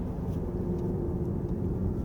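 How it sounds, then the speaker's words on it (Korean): A 2023 Mercedes-Benz EQE350 Plus electric car's synthetic acceleration sound: a steady low electric motor hum with a faint synthetic whir, continuous and fairly close, with no voices over it. "엔진 소음, 그러니까 모터 가속 시의 소리를 얘기하는 거겠고"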